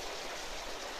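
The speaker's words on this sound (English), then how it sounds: "we've ended up here by this wee kind of waterfall" A small woodland waterfall near Balerno pours with a steady, close, even rush of falling water, heard alone without any talking.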